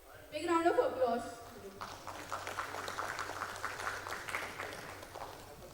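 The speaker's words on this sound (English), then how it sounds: "Big round of applause." A brief spoken phrase gives way to moderate, steady clapping from an audience at an accounting institute's national conference as a speaker is welcomed onto the dais, continuing evenly to the end.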